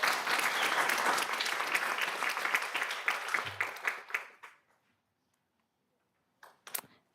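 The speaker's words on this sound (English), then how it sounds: "let's give Sean one more round of applause" An audience at a school board meeting claps loudly and steadily for several seconds, then the applause thins into scattered claps and fades to silence, with a few last isolated claps near the end.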